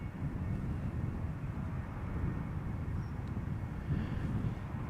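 A KLM Flight Academy training aircraft flies at Amsterdam Schiphol for touch and goes, a low, steady engine drone that stays faint and distant throughout without voices.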